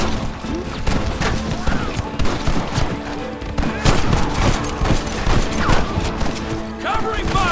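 Heavy gunfire in the Western video game Red Dead Redemption during a shootout, a loud barrage of overlapping rifle and pistol shots with clanks and crashes, shouted voices mixed into the din.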